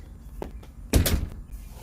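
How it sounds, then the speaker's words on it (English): A door closes with a single solid thunk partway through, after a faint knock just before it. Low room noise runs throughout. "Close the door."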